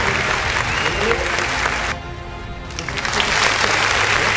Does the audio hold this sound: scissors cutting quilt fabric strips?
no